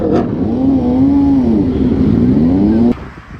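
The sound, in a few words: Ducati motorcycle revving past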